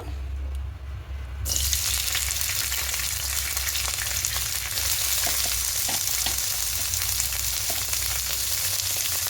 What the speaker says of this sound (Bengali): দিয়ে প্রথমে এখানে শিম দিয়ে দেবো, শিমগুলোকে ভেজে নেব।